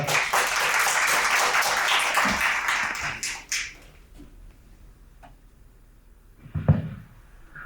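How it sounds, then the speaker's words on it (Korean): An audience at a university mechanical engineering colloquium at Kookmin University claps in a dense burst for about three and a half seconds before the applause fades out, followed by quiet room noise and a few isolated knocks and taps. "큰 박수 부탁드리겠습니다"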